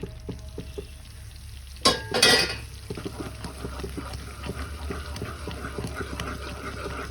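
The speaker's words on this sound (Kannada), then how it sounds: "3ನೇ ರೌಂಡಲ್ಲಿ ಮತ್ತೆ ಎಣ್ಣೆ ಹಾಕ್ತಾಯಿದ್ದೀನಿ" Hot oil poured into Mysore pak mixture while it is stirred, a soft bubbling sizzle throughout with a sharp burst of frothing hiss near the start, then steady quiet frying and stirring scrapes.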